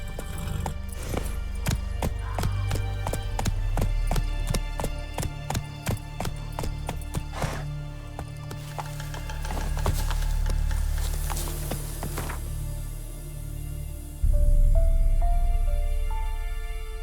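Horse hooves clip-clop at a run in Witcher 3, a steady rhythmic beat of strikes over a low ambient hum, loud and close throughout before a sudden louder swell near the end.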